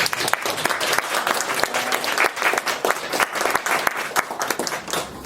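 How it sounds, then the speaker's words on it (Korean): An audience at a hanok concert honouring composer Isang Yun breaks into lively applause. Close, crisp individual claps merge into a sustained, fairly loud round that carries on throughout. "박수 한번 응원을 받겠습니다"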